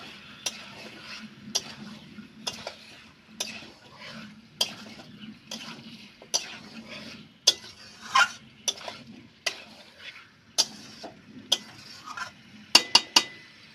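Meat curry with fried potatoes being stirred in a pot: a steady series of scraping spoon strokes and metal clinks against the pot, with a faint sizzle underneath and no talking.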